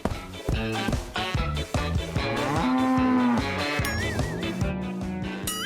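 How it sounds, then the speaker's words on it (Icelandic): A cow moos loudly and close, long drawn-out lowing calls repeating over several seconds against a busy cartoon-style background of music and effects. "Hvað? Alvöru kýr?"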